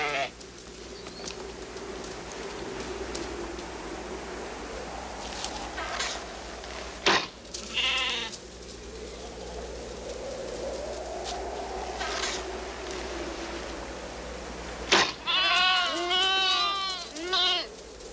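Feral sheep bleat on the hills of Santa Barbara Island. Scattered calls rise over steady wind and a continuous background bed, ending in a run of close, wavering bleats.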